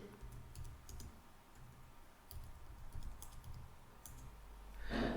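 A command being typed on a computer keyboard produces quiet, close key clicks in short irregular bursts, with a soft room hum between the keystrokes.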